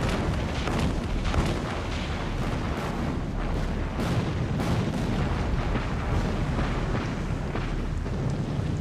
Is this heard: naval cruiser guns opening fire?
yes